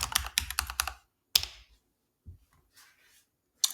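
A short burst of quick keystrokes on a computer keyboard while a password is entered, followed by a pause and a few isolated key taps, close and quiet.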